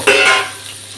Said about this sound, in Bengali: অবশ্যই আগে আমি আলুগুলো তেলের উপর দেবো